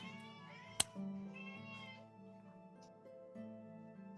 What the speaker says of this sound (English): Hearing cats.